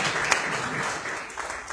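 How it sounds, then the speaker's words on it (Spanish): A class applauds a student in a lesson on international shipping, with steady, dense clapping that fills the whole stretch and fades slightly toward the end. "Aplaudan a Dulce para su jefe"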